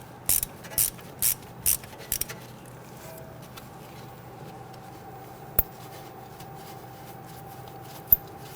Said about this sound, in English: we're going to use our socket, our extension, and this is just our 1/4" ratchet. Okay, loosen it and remove this bolt.